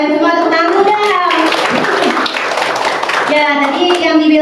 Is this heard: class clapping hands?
yes